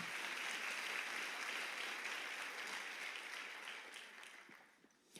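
Congregation applause at a women's church congress, a fairly faint, distant wash of clapping that slowly fades out, with a small bump of sound at the very end.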